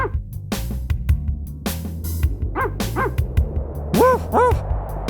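Barking dog in a song: a run of close, loud woofs and yips in uneven bursts over driving guitar music, clustering near the end.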